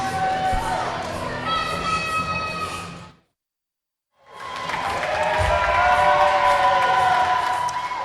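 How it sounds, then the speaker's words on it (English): A wrestling crowd at an independent show cheers for the defeated wrestler Muggsy, broad roaring cheers and applause filling the hall, broken by a brief cut to silence before the cheering resumes just as loud. "Dallas and Diesel are having the crowd give a cheer for Muggsy"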